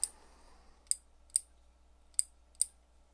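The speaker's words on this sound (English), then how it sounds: "Nice and clicky bail." Shimano Stradic FL fishing reel bail flipping with five sharp, crisp metallic clicks at irregular intervals, close and fairly quiet against a near-silent background.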